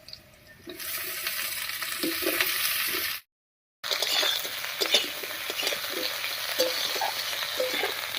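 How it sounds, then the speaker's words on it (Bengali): Potatoes and onions frying together in mustard oil in a kadai, a steady close sizzle broken by a short silent gap, with occasional scraping stirs and clinks. "এবারে আলু আর পেঁয়াজ একসঙ্গে ভাজা হয়ে যাবে"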